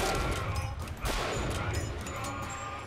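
Sniper rifle gunfire in Bioshock Infinite, a single loud sharp crack near the middle rising from dense game combat noise, with other shots and battle clatter around it; a voice talks briefly.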